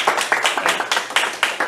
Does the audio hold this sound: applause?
yes